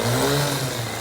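An Echo 3020T gear-reduction string trimmer running at about half throttle, a brief close, steady buzzing engine drone.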